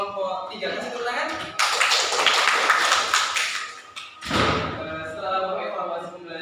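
A Year 12 Qur'an Hadith class claps for a group: a burst of loud, scattered hand clapping rises, dips, then swells again, with voices talking around it in the classroom.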